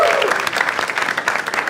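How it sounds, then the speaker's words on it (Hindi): Audience at an India's Got Latent comedy show bursts into dense, loud applause for a guest, steady clapping filling the room with a voice briefly over it. "एक बार जोरदार ताली for Jaspreet bhai."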